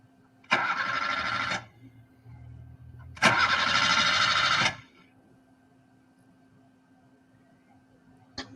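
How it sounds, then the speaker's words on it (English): An engine cranks and catches twice in a row, each start a loud close burst lasting about a second, separated by a low rumble and followed by quiet with a faint hum. "And then there's an engine starting."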